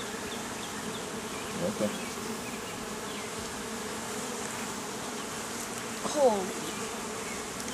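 Bees drone steadily throughout an open beehive inspection, a dense continuous hum with brief louder swells as the frames are handled, and someone speaks briefly.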